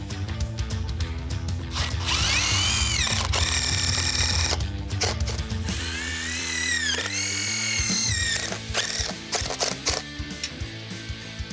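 Power drill driving fasteners into a stair stringer for a QuickStep stair system: repeated close whining bursts that rise in pitch, separated by short pauses and clunks.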